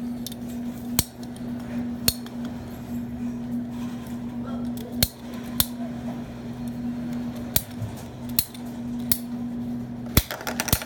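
PVC pipe being cut with sharp, separate clicks and snaps spaced a second or two apart over a constant low hum, close and fairly loud.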